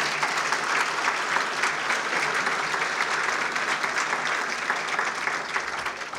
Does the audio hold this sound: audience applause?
yes